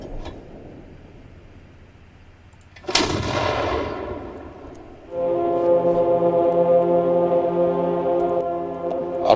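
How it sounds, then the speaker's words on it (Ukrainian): A heavy artillery blast in the video game Arma 3 erupts during a night operation and rolls away into a long rumble, followed by a sustained droning, humming roar with layered tones. "Арта працює"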